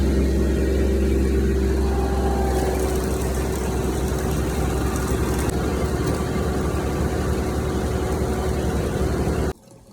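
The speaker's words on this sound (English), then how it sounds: "get on the tractor, and finish up the trails" A diesel tractor engine runs steadily at a low, even idle with a constant deep rumble, close and loud, for nearly the whole stretch before cutting off abruptly near the end, with no talking.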